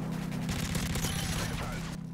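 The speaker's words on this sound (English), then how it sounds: "The fire rate on this gun is so fast, bro." Rapid-fire gun in a Call of Duty match, with quick bursts of shots crackling over a steady low hum of game noise and tapering off near the end.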